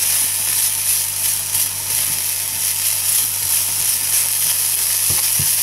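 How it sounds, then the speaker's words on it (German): Bacon sizzles in a dry pan with no oil, rendering in its own fat for spaghetti carbonara; a steady, close crackling hiss runs throughout, with a couple of faint knocks near the end. "Brate ich mir hier schon mal den Speck an. Ich gebe hier natürlich kein Öl in die Pfanne."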